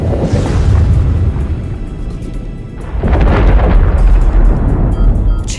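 An oil platform explodes in a disaster film, a sustained heavy roaring rumble with deep booming surges swelling twice, loud and close, with no voices over it.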